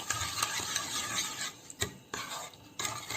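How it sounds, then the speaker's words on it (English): Sugar and instant dry yeast being stirred into lukewarm milk in a bowl for cinnamon roll dough, close rhythmic whisking and scraping strokes with short pauses between bursts. "Into this I'm going to add the sugar, then the instant dry yeast, and I'm going to give a mix"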